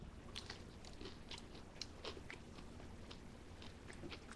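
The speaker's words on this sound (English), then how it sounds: "these little crunchy little nuggets of thigh meat" Close, quiet crunching bites and chewing on crispy boneless chicken thigh nuggets in garlic parmesan coating, with repeated soft crackles spread across a few seconds and no talking.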